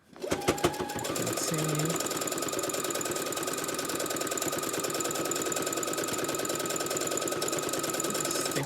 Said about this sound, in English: stitching 1/8 of an inch away.